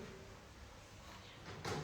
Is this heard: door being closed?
yes